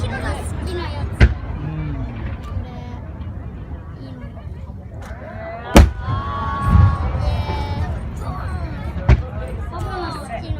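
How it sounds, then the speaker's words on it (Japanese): Fireworks at the Otaru Ushio festival fireworks show crack with a few sharp, distant bangs spaced several seconds apart. A murmuring crowd and nearby voices talk throughout. "パパの好きな花火出るわ。"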